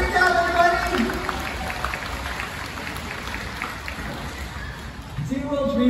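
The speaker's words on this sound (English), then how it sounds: "Let's give our audience volunteers a huge round of applause." Audience applause at a SeaWorld orca show, a dense crowd clapping spread across the stands throughout, with an amplified voice talking over it and clearer speech near the end.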